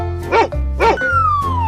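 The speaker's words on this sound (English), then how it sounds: "Dog," A cartoon dog gives two loud, bright barks in an animated children's animal video. A sustained musical tone runs underneath, and a high whistling slide follows.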